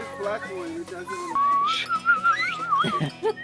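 A person whistles a wavering, sliding tune close by, with brief voices and rustling around it.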